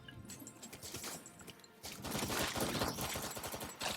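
Rapid gunfire from shooting in the VR video game Sairento rattles in dense, continuous bursts that grow louder and busier partway through, with no talking.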